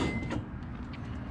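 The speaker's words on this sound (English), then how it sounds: "these bad boys here will come down and you can snag them and shut your door" The basket door on a Mulch Mate truck is pulled down and shut, ending in one sharp, close slam after a quiet stretch of low background rumble.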